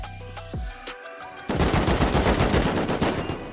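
Rapid bursts of gunfire in the video game Rust, a few sharp shots followed by a dense, sustained volley of loud automatic fire up close with no voices.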